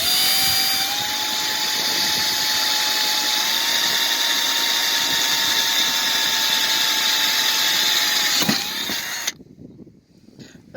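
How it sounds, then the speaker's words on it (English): Small drill bit whining steadily as it bores holes into the fibreglass roof of a van, a continuous high-pitched drilling tone for about nine seconds that stops abruptly, leaving quiet background noise. "I've done 3 little holes with this little drill bit"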